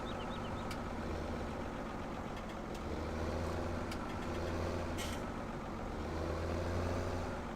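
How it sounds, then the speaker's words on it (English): A tractor engine in the Farming Simulator 17 video game runs steadily, a low rumbling drone that swells and eases in level as it shifts, with faint clicks and no speech over it. "I need to shift the tractor over."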